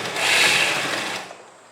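A sewing machine runs briefly while stitching a fabric strip on a child's kurta, a loud whirring burst that swells and then fades within two seconds.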